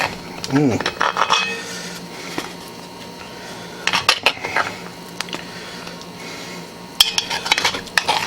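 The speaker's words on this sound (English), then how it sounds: "grab a spoon here, big spoon. I'm gonna dig right into it here again." A big spoon digging into peach cobbler in a cast-iron Dutch oven: intermittent scraping and metallic clinks in a few separate bursts, fairly close, with quiet gaps between them and no talk.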